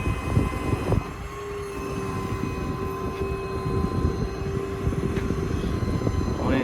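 The hydraulic crane on a 2014 Ford F550 mechanics service truck rotates counterclockwise. A steady mechanical drone and hum run throughout with some clunks, heard fairly close and without talk.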